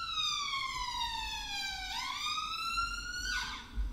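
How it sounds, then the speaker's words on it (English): Ambulance siren passing along a street, a wailing tone that sweeps down and then back up in long cycles, moderately distant against low traffic rumble. "No, that's an ambulance."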